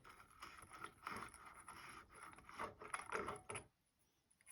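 Ratchet work on a Datsun 280Z R200 differential, a dense run of metallic clicking and scraping close by for several seconds, then stopping abruptly.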